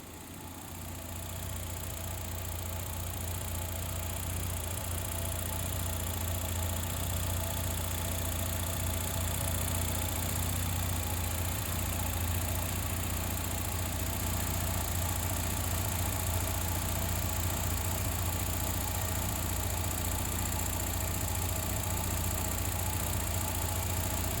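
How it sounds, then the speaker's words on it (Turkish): A Fiat Tempra with a 1.6 MPI engine idles on petrol, giving a steady, even low hum with a faint mechanical whir that holds unchanged and close throughout, with no voices. "ben size şöyle bir rolantiyi benzinde dinleteyim"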